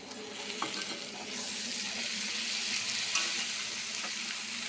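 Ginger, garlic, green chili and cumin paste frying in a pan for a banana-flower and prawn curry, a soft, even hiss of oil with faint occasional stirring, close but fairly quiet.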